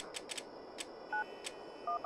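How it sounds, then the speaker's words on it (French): Phone dialing in the survival horror game Alone in the Dark: soft clicking taps come in a quick irregular run, with a few short electronic beeps mixed in, all fairly quiet and without voices. "Putain de téléphone à cadran!"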